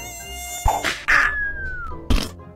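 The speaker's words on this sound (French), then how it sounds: "Les insectes, ça pullule sur Fortnite. Surtout depuis qu'ils ont rajouté cette merde. Les mecs, on dirait des moustiques." Mosquito-like insects whine in the Fortnite video game: high, thin buzzing tones that glide and waver, cut by a few sharp thumps, with no talking.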